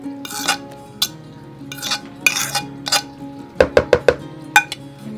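Mashed bananas tipped into a mixing bowl for banana bread, heard as a series of clinking scrapes of utensils on the bowl, with a quick run of four sharp knocks near the end and one more after.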